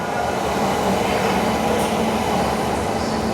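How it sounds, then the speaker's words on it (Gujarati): A passenger train pulls into a railway station in Gujarat, a loud steady rumble of wheels and carriages with faint rail squeal, close and continuous throughout. "તો સામે એક ટ્રેન આવી છે"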